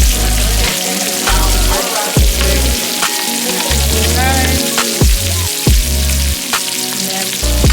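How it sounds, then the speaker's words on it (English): Shrimp frying in a home kitchen pan: steady loud sizzle with crackling spatter throughout, broken by occasional clatters of stirring and low rumbling thumps. "I am making the shrimp."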